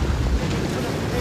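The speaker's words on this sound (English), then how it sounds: "as you can probably hear, the wind has really got up strong now" Strong gale-force wind at night on the Isles of Scilly near the island of Bryher, a loud continuous roar buffeting the microphone with steady broadband rush and low rumble throughout.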